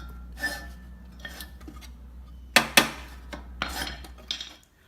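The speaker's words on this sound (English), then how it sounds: "So you can hear it scraping" A steel reel mower blade scraping against its bedknife as the reel is turned by hand, giving a few sharp metallic scrapes and clinks with quiet gaps between them.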